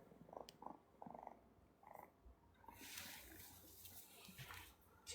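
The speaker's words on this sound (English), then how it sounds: "She's purring loud." Small kitten purring close up, a soft rhythmic rumble broken by faint handling noises and a brief rustle, quiet throughout.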